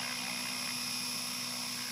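A radio-controlled helicopter running a Naza-H flight controller hovers outdoors. Its rotors give a steady, loud whine and buzz with sharp tonal harmonics, holding unchanged the whole time.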